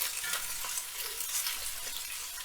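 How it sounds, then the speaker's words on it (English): Loud, steady sizzling of oxtail searing in a hot pan, a dense crackling hiss with occasional stirring scrapes, close up and without talk. "Every time we do a good sear on the meat, we're adding flavor."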